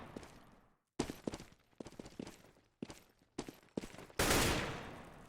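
Sharp, close gunshots in a video game fire in short separate bursts with brief gaps between them, ending in a longer, louder burst, with no talk.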